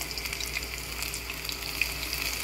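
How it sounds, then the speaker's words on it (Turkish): Zucchini rings frying in hot oil for a crispy meze, a steady close sizzle and crackle running throughout with no talk. "Şöyle güzel güzel kızartacağım."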